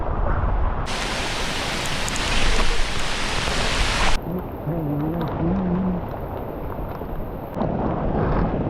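Steady rain on a trek at Bhaskargad fort hisses across a broad band, swelling louder for stretches, with a faint low tonal hum partway through; no voices.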